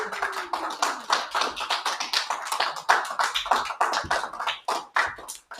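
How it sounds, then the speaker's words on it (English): Audience at an arts awards ceremony bursts into sustained applause, dense overlapping clapping that fills the room steadily from start to finish with no voices on top. "I want to give a huge round of applause for Theater Scam"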